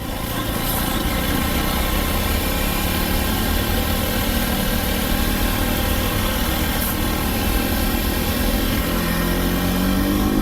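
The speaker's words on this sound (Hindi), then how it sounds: "अब देखो इसको मैं ओवरटेक करूँगा।" A motorcycle overtaking on a city street where road work is going on, its engine droning loud and steady close by, with constant wind and road rumble throughout and no talk.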